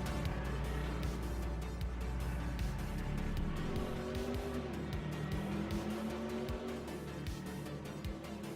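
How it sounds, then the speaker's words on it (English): A BMW race car in the racing game Assetto Corsa EVO drones loudly at high revs, the unmuffled engine note rising and falling through gear changes with passing-car whooshes and tire noise, no talk heard. "BMW sounds like a NASCAR with no exhaust on it."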